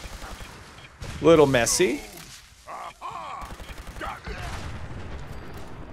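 Ultracite laser rifle in Fallout 76 firing a quick run of shots at distance, mid-loud and sharp, with someone talking over and between the bursts.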